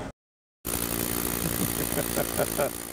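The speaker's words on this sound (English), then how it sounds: "they're doing some drilling over here as they continue to prepare the Olympic Village for tomorrow's opening" Drilling and machinery at a construction site readying the Olympic Village, a steady loud mechanical roar with rhythmic pulsing that starts abruptly after a brief silence and continues without pause.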